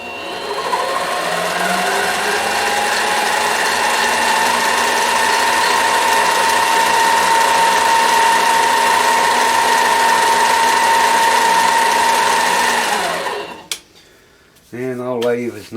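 A freshly repaired lathe runs in reverse with a loud, steady motor whine and a constant tonal hum, then winds down near the end, followed by a brief voice.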